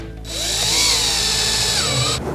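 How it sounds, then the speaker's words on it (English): Power drill driving screws through an L bracket into a cabinet panel, a close, loud whine rising in pitch for about two seconds before stopping. "just align the pre-drilled holes and insert the screws"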